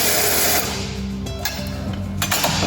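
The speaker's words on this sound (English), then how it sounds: "So if you're gonna use a drill or a tech drill," A power drill drives the mechanism on a new Nomadic van, a part fitted with a shear pin. The motor whirs loud and steady, then slows briefly before running again near the end.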